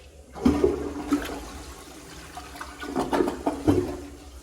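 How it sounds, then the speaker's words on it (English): A toilet in a Jellystone Park campground restroom flushes at close range, starting with a sharp whoosh and then rushing and gurgling water that surges again near the end, with no talking. "Let's actually give you a normal flush."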